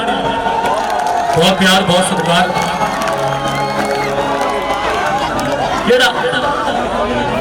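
A crowd at a live outdoor Punjabi akhara music show, loud cheering and clapping swelling under someone speaking through a loud sound system, with whoops and chatter rising in waves.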